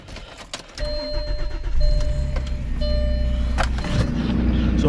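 An Audi car engine cranks and fires up after a quiet moment, then settles into a steady, close low rumble that continues to the end.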